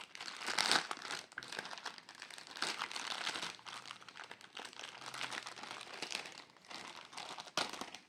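Crinkly wrapping is handled and pulled open around a silicone baking mat with twelve cavities, with steady close rustling and crackling bursts throughout, no talking.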